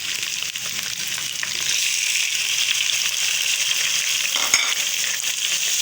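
Tomatoes sauté in a hot pan during the making of an egg and chickpea curry, giving a dense, continuous sizzle that swells as they hit the oil, with a brief utensil clink near the end.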